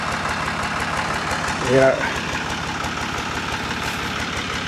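A tractor engine idles steadily nearby in a mowed clover food plot, a low continuous rumble while a person briefly speaks over it.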